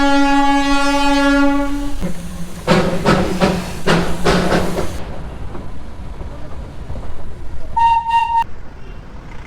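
Darjeeling toy train at Ghum station: a long steady horn blast opens, followed by chuffing, clanking carriage noise and a second shorter double toot near the end, loud and close.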